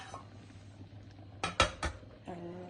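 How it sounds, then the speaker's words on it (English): A lid is set onto a boiling pot on a home stove, landing as a few sharp metallic clanks close by over a low steady hum, followed by a brief softer rattle. "put the lid on it."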